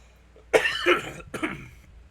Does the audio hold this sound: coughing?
yes